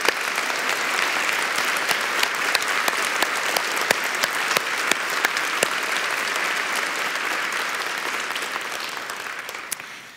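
A church congregation at Unity Temple applauding, dense sustained clapping from many hands that fills the room for several seconds before tapering off at the end.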